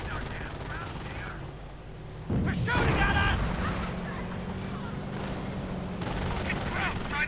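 Rapid gunfire from a King Tiger tank and infantry in a World War II video game battle, bursts of shots and engine rumble layered over continuous noise, with a voice talking throughout.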